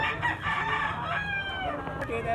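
A rooster crows at a distance, its long drawn-out call rising and falling over steady background noise.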